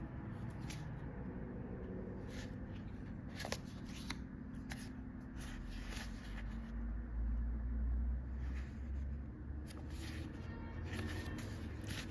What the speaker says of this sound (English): Traffic is so loud today. It is extra loud.